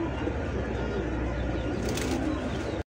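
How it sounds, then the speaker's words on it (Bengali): A male German shield pigeon coos in a deep, rounded, rolling call close by, filling nearly the whole moment before stopping abruptly. "একেবারে রাউন্ড খুবা বিগ সাইজে ডাকতেছে, এটা হচ্ছে নর কবুতর"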